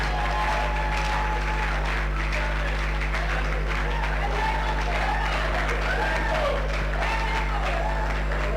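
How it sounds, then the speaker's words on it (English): Audience applause at an award presentation of the Nigerian Institution of Estate Surveyors and Valuers, Bayelsa State Branch, steady and sustained throughout, with a constant low hum and some voices mixed in. "don't stop clapping"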